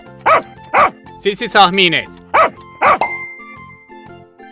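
Dog barking in an animal sound guessing game, several loud single barks with a short spoken prompt in the middle, over a light musical backing.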